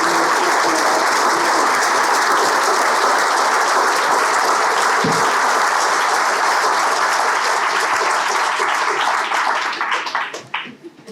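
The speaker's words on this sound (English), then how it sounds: "One more round of applause for Manuela." A seminar audience on social polarization applauds the panel in a loud, dense round of clapping that holds steady for about ten seconds before thinning out and fading.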